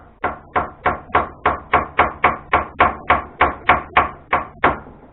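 Steady tapping on an Isuzu VX shock absorber cap during a rebuild: about fifteen evenly spaced, loud, sharp metallic knocks close up, a little over three per second, with no talk.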